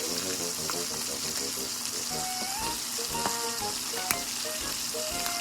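Fish frying in a pan, a steady bright sizzle and crackle of hot oil with occasional sharp pops, close and continuous, with faint background talk and some tonal sounds.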